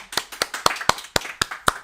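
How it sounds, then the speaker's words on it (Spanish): A handful of distinct, sharp hand claps in a steady rhythm, close and fairly loud, like a small group or a single person clapping at a seminar talk. "les pido otro aplauso para Fabri"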